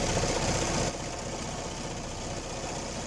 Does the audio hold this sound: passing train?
no